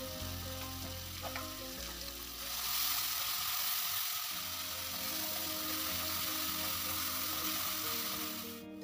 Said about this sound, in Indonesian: Tumislah semua bumbu beserta batang serainya sampai benar-benar harum dan